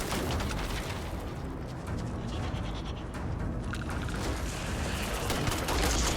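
Dense, continuous gunfire and explosions from combat in the video game Starfield, loud bursts of shooting layered over a rumbling battle mix that stays intense throughout.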